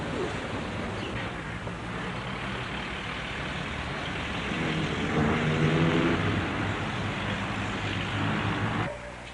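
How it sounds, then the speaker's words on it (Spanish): Steady rumble of car traffic in the streets of Lima, a continuous broad wash of engine and road noise with a heavier vehicle swelling past midway, no voices. "hay ruido de coches"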